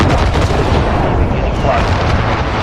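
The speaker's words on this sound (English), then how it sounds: "Precision airstrike, ready on your mark." Precision airstrike explosions in a Call of Duty Modern Warfare match, a dense, loud rumbling barrage of blasts and gunfire with a faint voice underneath.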